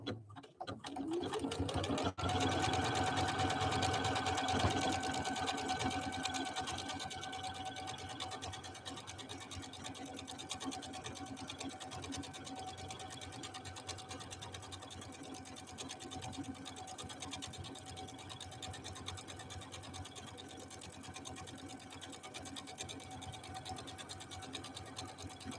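A Janome Skyline S5 sewing machine runs steadily through a decorative stitch, its motor whirring at a constant pitch with a rapid needle rhythm, close and clear, with no talking over it.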